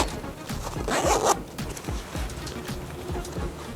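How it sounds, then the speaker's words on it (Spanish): A zipper on a sewn skirt with pleats is pulled shut in one quick rasping run near the microphone, with light handling and rustling of the fabric before and after. "cerramos cremallera"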